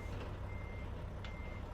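A truck backing up in American Truck Simulator, sounding a thin steady reversing tone over a low engine drone. There are faint breathy hisses and no talk.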